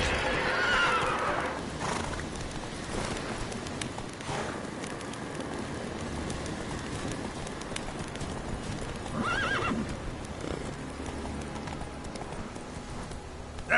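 Roach the horse gallops in The Witcher 3, with steady hoofbeats clattering throughout and loud whinnies near the start and again around the middle, with no talk over them.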